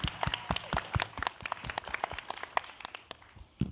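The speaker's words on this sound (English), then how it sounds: "give these powerful, bold women another round of applause" Audience at a women's summit applauding a panel of women, scattered distinct claps from a modest crowd, fairly quiet and irregular, with no talk over them.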